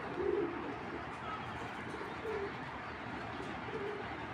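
A racing pigeon coos softly a few times over a low, steady background rumble, with no speech.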